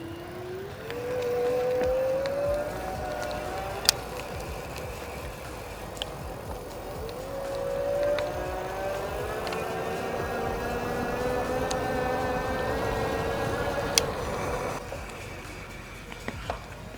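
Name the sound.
Aventon Soltera electric bike accelerating on throttle only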